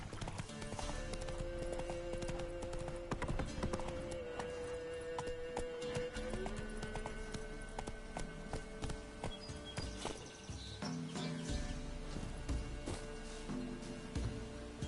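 Hooves of Roach, a mare in The Witcher 3 video game, clip-clop steadily and close by throughout, with a brief whinny and faint musical tones underneath.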